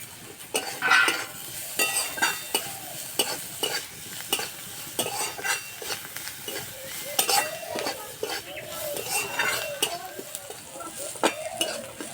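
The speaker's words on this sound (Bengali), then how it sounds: "সবজি ভাজা হয়ে গেছে।" Mixed vegetables frying dry in a pan with turmeric, black pepper powder and chopped coriander, stirred steadily with a spatula that scrapes and clinks against the metal over a soft continuous sizzle, close and with no talking.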